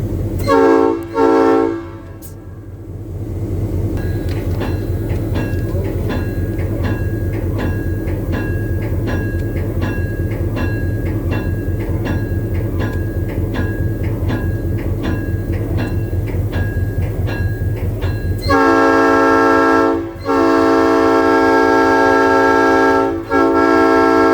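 Freight locomotive 6901 rumbles steadily from inside the cab as it departs eastbound, a low engine drone with a rhythmic pulsing tone throughout, then a loud horn blast near the end.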